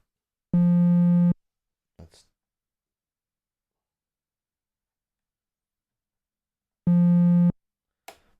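A steady triangle-wave tone from an IK UNO or KORG Monologue synthesizer with a bright stack of overtones sounds twice, each about a second long, separated by silence and a few soft clicks.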